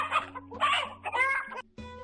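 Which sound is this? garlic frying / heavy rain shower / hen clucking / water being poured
hen clucking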